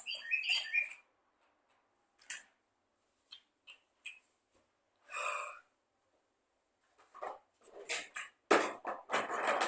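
A few short, scattered squawks and chirps of a bird separated by silence, with some brief rustling and handling noises toward the end.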